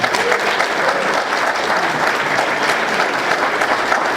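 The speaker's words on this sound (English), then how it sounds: "Can we give him another round of applause?" An audience at a Black Studies anniversary event gives another round of applause for Shamari Huggins, thick sustained clapping at an even level from start to finish, with only faint crowd murmur.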